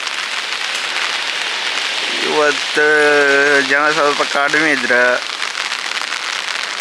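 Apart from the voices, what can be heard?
rain falling outdoors while fishing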